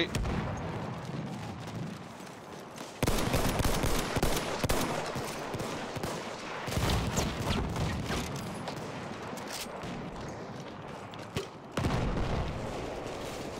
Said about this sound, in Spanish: Es una ametralladora enemiga